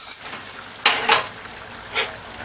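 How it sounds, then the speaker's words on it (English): Spoon stirring brown stewed kidney in a pot on the stove, with a few short scraping, sizzling strokes, two close together and one a moment later, over a low simmering hiss. "stir your pot"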